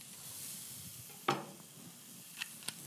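Garlic sizzles in a hot pan with a soft, steady hiss, and a sharp clatter of stirring breaks in partway through. A couple of lighter utensil taps follow near the end.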